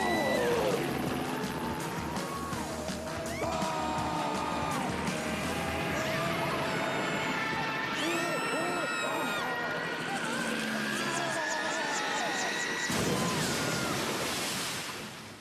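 Cartoon aircraft flying and then landing, a sustained engine drone with whooshes and rattling impacts, mixed with music and effects while characters talk over it.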